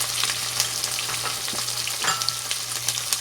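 Ginger garlic paste, onion, garam masala and spices fry in half a cup of oil, a continuous close sizzle with crackling pops and occasional stirring scrapes, no voices.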